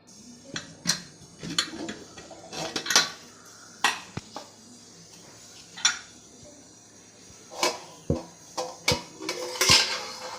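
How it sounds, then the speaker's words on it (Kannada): Sharp metallic clanks and clinks of a pressure cooker lid and utensils as the cooker is opened, several separate knocks spread irregularly, close by with no talking. "ಬನ್ನಿ ಕುಕ್ಕರ್ ಓಪನ್ ಮಾಡೋಣ"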